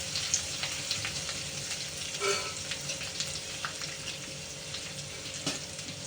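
Asafoetida sizzling in hot oil for a pumpkin kadhi gives a soft, steady frying hiss with faint scattered pops and one brief stir or clink.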